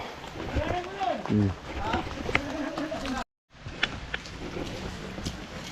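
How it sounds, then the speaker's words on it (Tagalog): Heavy rain roars steadily around a house's second floor while people talk over it, with a brief dropout partway through. "inabutan tayo ng ulan. Grabing ulan na to"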